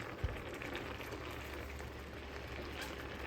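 Tomato cream pasta sauce bubbling in a pan after a splash of extra cream, a steady close simmer of small pops and sputters with one sharp knock near the start.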